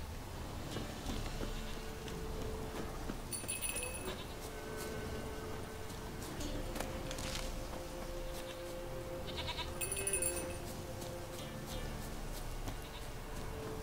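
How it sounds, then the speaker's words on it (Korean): A goat bleats in The Witcher 3 game world, two short nasal calls several seconds apart, heard over steady ambient game sound and music. "염소 어딨니? 여기 있다."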